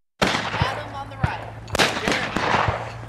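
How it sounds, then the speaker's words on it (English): Gunshots crack at an outdoor shooting range, several sharp reports at irregular intervals over a steady low hum, some loud and close, others softer and farther off. "a lot of great shooting out here"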